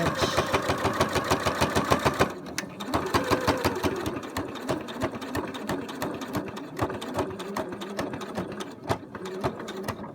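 A sewing machine stitches narrow round elastic onto a face mask, running back and forth in close, fast rhythmic bursts that stop briefly and then continue with uneven runs of needle clatter.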